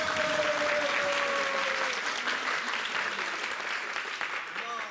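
A studio audience claps loudly and continuously, a dense steady burst of applause that tapers slightly toward the end, with a brief voice faintly audible over it at the start.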